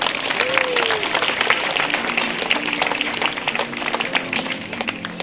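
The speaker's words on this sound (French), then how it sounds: "on peut bien sûr applaudir Cléo." A crowd applauds steadily for several seconds at a zoo sea lion show, a dense wash of clapping with a few voices calling out underneath.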